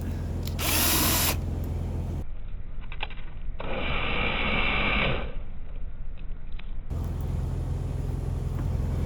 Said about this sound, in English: Then drill this one out, and then drill that one out so it doesn't fall out on me.